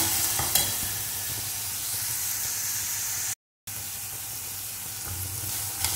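Onions frying with curry leaves and turmeric for a Tamil chicken curry, a steady close sizzle and hiss with faint stirring, broken by a short silent gap partway through, no voices.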